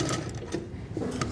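A sewing machine stitches cloth while a suit or kameez is sewn, a fast rhythmic mechanical chatter of needle strokes heard close and fairly loud, with no talking.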